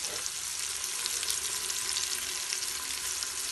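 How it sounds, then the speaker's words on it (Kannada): Onions frying in a pan for vegetable pulao produce a loud, steady, close sizzle with a fine crackling texture, continuous and without any speech. "ಈರುಳ್ಳಿ ಬಂದು ಚೆನ್ನಾಗಿ ಗೋಲ್ಡನ್ ಬ್ರೌನ್ ಬರೋ ತನಕ ಸ್ವಲ್ಪ ಚೆನ್ನಾಗಿ ಫ್ರೈ ಮಾಡ್ಕೋಬೇಕು"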